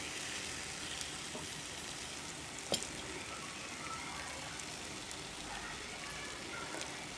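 Crushed olives frying in oil with garlic for an olive pickle give off a soft, steady sizzle that stays faint and close throughout, with one brief sharper tick partway through.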